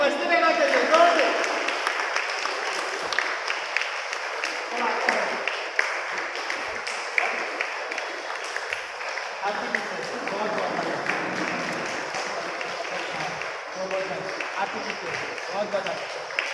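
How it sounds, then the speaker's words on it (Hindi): Children and a congregation clap together at a Sunday school Teachers' Day celebration in a church, with sustained applause and voices mixed in. "ताली बजते रहना चाहिए, जोर से।"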